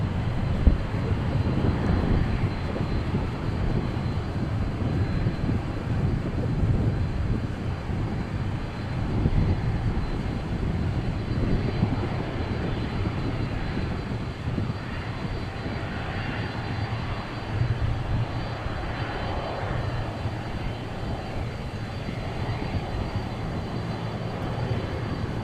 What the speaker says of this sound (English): Should be a 18 left takeoff.